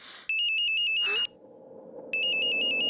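A phone ringtone trills in bursts of rapid electronic beeps, clear and fairly loud, with a short gap of quiet room hum between two rings.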